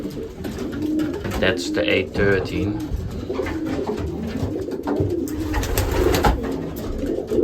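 Young racing pigeons coo in soft repeated rolling calls close by, while a person talks over them.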